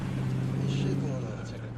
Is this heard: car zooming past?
yes